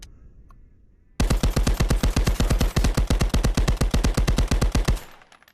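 After a brief quiet moment, an MP 40 submachine gun fires a long full-auto burst of roughly thirty rapid, evenly spaced, very loud shots until the magazine runs dry, then stops abruptly.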